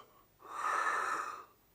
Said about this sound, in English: you will forgive a yawn in an overworked and elderly man